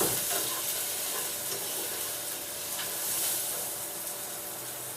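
Tenderstem broccoli frying in a quinoa risotto pan, a steady moderate sizzle with faint scraping stir strokes now and then.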